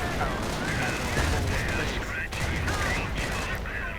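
Gunfire and explosions rattle through a World War II real-time strategy battle, bursts of rifle and machine-gun fire over a continuous roar of combat, with talk throughout.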